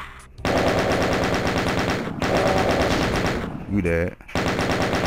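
Rapid, loud gunfire from the video game Doom 2, continuous bursts broken by short pauses, with a brief voice speaking over it.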